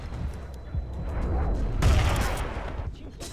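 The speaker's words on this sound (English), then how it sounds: "Someone's shooting me." Gunfire crackles in the video game Battlefield 2 on the Fushee Pass map, with scattered shots over a low rumble and a heavier volley near the middle.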